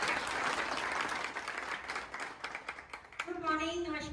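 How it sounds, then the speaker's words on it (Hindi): Audience applause at a network marketing company event in a hall: steady, dense clapping from a crowd that continues throughout, then fades as a voice begins speaking over it. "क्लैपिंग करेंगे आप।"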